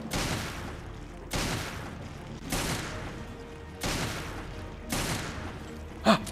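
Gunfire in the video game Resident Evil: Revelations: five heavy booming shots spaced evenly about a second apart, each with a long decaying tail, followed by a short sharp sound at the end.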